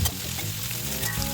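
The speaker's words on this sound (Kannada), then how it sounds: "ಇದನ್ನು ಕೂಡ ಸ್ವಲ್ಪ ಮೆತ್ತಗಾಗೋವರೆಗೂ ಹುರಿದು ಆಮೇಲೆ ಇದನ್ನೆಲ್ಲ ಮಿಕ್ಸಿ ಮಾಡ್ಕೋಬೇಕು." Tomatoes fry in hot oil in a pan, giving a brief, steady crackling sizzle that is close and alone.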